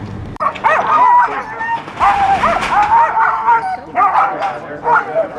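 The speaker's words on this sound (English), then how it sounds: "these are my lead dogs" Alaskan sled dogs, a team with its lead dogs, bark and yip excitedly in close, overlapping bursts with whimpers between, loud and nearly constant throughout.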